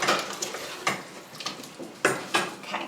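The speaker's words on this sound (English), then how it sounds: "I'll give that a bit of a stir just to combine that with the meat." A spoon scrapes and knocks against a pot while tomato salsa is stirred into pork, several sharp clinks at irregular intervals over a faint background, no talking.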